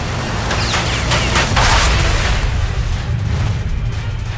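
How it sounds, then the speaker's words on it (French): A fighter jet's aircraft cannon fires a three-second burst of explosive incendiary shells at a MiG, a loud continuous roaring rattle of rapid fire that fades slightly near the end. "Darrell Simmons appuie sur la gâchette pendant 3 secondes et tire une rafale d'obus."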